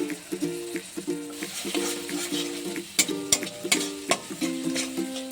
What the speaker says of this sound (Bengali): এবার কাজু চাল মগজ বাটাটা দিয়ে কষিয়ে নেব।